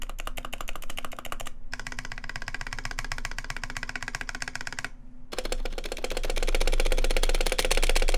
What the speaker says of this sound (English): you can definitely hear the wire rattling in there